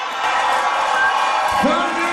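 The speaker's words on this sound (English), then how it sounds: "The crowd is definitely into this fight" A large arena crowd at a live MMA event in Memphis cheers and whoops for a heavyweight fighter, Parker Rye, a steady loud roar throughout.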